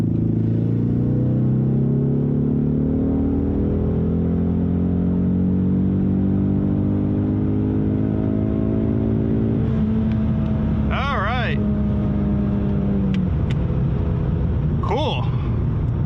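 A Ford Mustang EcoBoost engine running E85 without a tune revs from 3,000 rpm to redline, its pitch climbing for several seconds before dropping off, loud and close, with brief chirps near the end.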